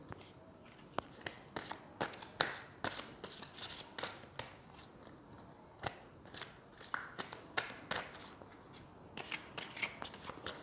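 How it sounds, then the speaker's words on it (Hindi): Tarot cards shuffled and handled from a deck, a quiet run of soft papery flicks and sharp little snaps in an irregular rhythm, close up with no talking. "मैं इस डेक से भी एक कार्ड पुल करूंगी।"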